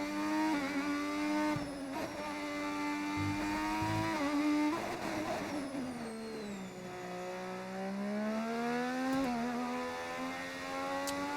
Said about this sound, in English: How good does this V6 sound?